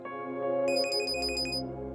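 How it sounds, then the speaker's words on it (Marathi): A phone rings with a bright electronic ringtone, a rapid series of repeated high tones over a steady melodic background. "जयेशदाचा फोन आहे."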